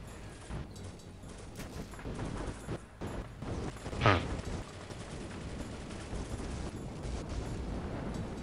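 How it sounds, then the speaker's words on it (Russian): A grenade goes off in the World War II strategy game Faces of War, one sharp bang that rises out of a constant noisy battlefield rumble and scattered distant gunfire. "Он в тебя кинул гранату."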